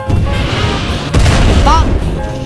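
Loud booming bomb explosion, a heavy rumbling blast that swells and rolls on for a couple of seconds with a second surge midway, close and dominant.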